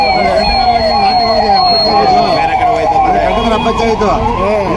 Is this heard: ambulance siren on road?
yes